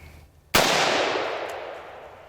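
A single loud, close rifle shot from a Smith & Wesson M&P15 Sport II firing 5.56 rounds, a sharp crack followed by a long echoing decay that fades over a couple of seconds.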